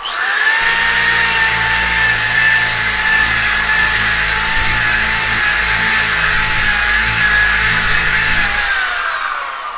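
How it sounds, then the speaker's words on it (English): A power sander roughs down a cedar fence board for a carved wood sign, a loud, steady whine with a low motor hum running continuously for nearly ten seconds before winding down at the end. "this is just my rough sand"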